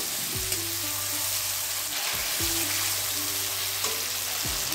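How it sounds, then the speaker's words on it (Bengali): A paste of ground ginger, cumin and dried chilli fries with onions in hot oil, a steady close sizzling hiss throughout, with faint low tonal sounds in the background. "এটাকে একটু পেঁয়াজের সঙ্গে কষিয়ে নেব।"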